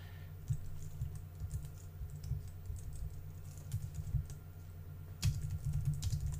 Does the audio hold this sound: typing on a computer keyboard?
yes